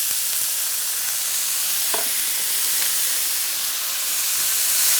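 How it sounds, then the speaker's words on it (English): Onions and garlic sauté in a pan with a steady, hissing sizzle, broken once by a brief clink of a utensil. "Just saute those for a few minutes."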